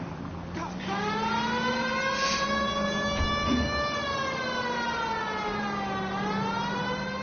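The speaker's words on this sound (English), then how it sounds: "I think we need a siren." A steady wailing video-game police car siren with rich harmonics rises and falls slowly, loud and close, running continuously for several seconds.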